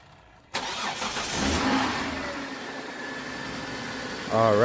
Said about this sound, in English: we're going to go ahead and try to turn it on